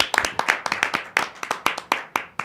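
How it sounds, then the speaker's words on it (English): A small group claps in a recording studio, about a dozen distinct, sharp claps in a loose uneven rhythm, close and dry, each one ringing briefly before the next. "How about a clap for that, man?"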